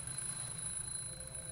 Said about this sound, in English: It is an alarm clock.